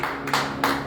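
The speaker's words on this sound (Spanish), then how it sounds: "Dale un aplauso grande al Señor." A church congregation claps in a brief burst of applause, two louder surges of hand-clapping over a steady sustained tone in the room.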